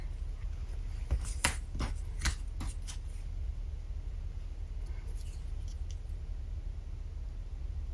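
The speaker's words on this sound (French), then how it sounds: "donc on coupe avec les ciseaux." Scissors snip through paper card for an Easter circular cascade card, giving a quick run of sharp, quiet cuts in the first few seconds, then a few faint rustles.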